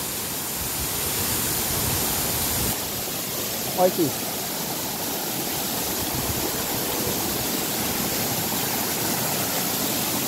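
Steady broadband rush of a waterfall and stream at Barra do Garças, Mato Grosso, a constant roar filling the scene while someone briefly speaks over it.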